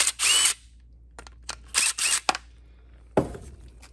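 A 9/32 socket wrench works a bolt on a Yard Machines lawn mower in a series of short, close mechanical ratcheting bursts separated by brief pauses, ending with a rougher scraping clatter.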